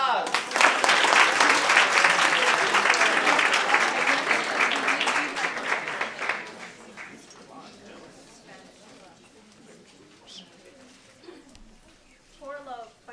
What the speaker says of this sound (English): let's have a round of applause for Regina De La Paz